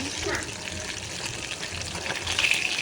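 Fish fries in a pan with a steady, close hiss and crackle of hot oil that continues without a break.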